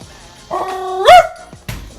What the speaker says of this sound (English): Still barking.